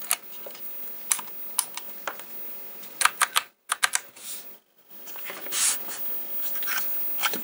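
Keys on a portable BMC64 Commodore 64 build are pressed in irregular bursts of sharp, close clicks and clacks, with short silent gaps between the groups of taps.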